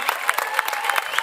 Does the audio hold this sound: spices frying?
no